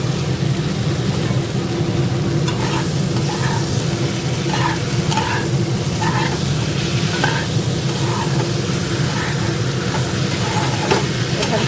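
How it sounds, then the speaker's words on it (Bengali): Potatoes sautéed in a pan for aloo dum hiss with a steady sizzle while a utensil scrapes and stirs in repeated rhythmic strokes, close by and moderately loud. "এবার আলুটা দিয়ে কষে নেবো"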